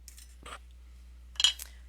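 Two quiet, close snips of scissors or cutters through earring wire, a short crisp cut, then another about a second later, in an otherwise quiet room.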